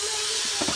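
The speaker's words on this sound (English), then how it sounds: "Next I'm going to add my ground beef." Ground beef dropped into a hot pan during weeknight dinner prep, giving a brief, steady broadband sizzle and hiss lasting under a second.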